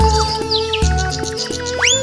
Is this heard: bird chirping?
yes